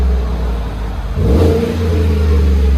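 A 2017 Chevy Silverado LT with a 5.3L V8 and Flowmaster Outlaw exhaust revs up from a rumbling idle into a loud, deep, close roar that holds steady.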